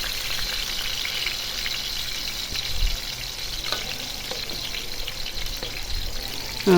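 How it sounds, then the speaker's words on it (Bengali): Fish sizzles in hot oil with a steady, crackling hiss and occasional soft pops, fairly quiet and close. "তেলের ভিতর দিয়ে দিলাম মাছটা"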